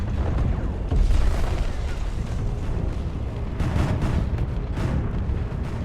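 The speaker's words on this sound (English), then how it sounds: "Solid hit from a Nova Cannon" A Nova Cannon shot strikes a ship in Space Engineers during a Warhammer 40K fleet battle: a loud, continuous deep rumble with heavy booms swelling through it, and no talk over it.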